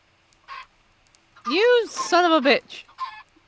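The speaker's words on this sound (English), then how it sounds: "You just killed 2 baby chickens." Baby chickens in a video game give a few short, high clucking and peeping calls, loud and close, with a man swearing loudly over them.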